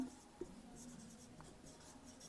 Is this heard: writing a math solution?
yes